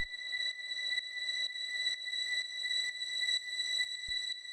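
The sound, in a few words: high string synth sample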